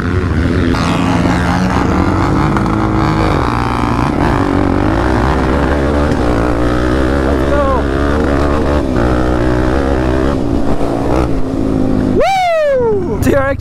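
A 400-class sport quad fitted with paddle tires races on sand, its engine roaring loud and close throughout and rising in pitch as it revs, with talk mixed in and a sharp high rev near the end.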